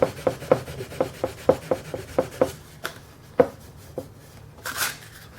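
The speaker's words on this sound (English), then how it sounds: "these lumps that the screws created need to be sanded off before you put that back on" Sandpaper works down raised screw lumps on a small wooden dog-shaped bank, producing a quick regular run of short rasping strokes that slows into a few scattered rubs, close and distinct.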